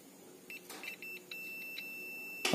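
A continuity tester's buzzer, probing a set-top box circuit board, sounds short electronic beeps in a quick irregular series, then holds as one steady tone, with a faint hum underneath.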